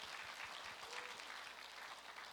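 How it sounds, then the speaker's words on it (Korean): A church congregation applauds, a dense steady wash of many hands clapping at moderate distance, sustained without a break. "박수 한번 주세요."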